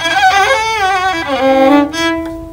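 A voice imitates a violin, humming a sustained, wavering melodic line with vibrato-like bends, close and fairly loud, with no other sounds.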